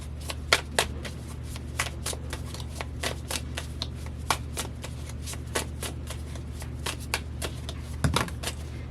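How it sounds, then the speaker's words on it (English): A deck of tarot cards is shuffled steadily by hand, giving a run of crisp, close riffling flicks spaced through the whole stretch over a low steady background hum, with no talking. "Okay, you watched me shuffle."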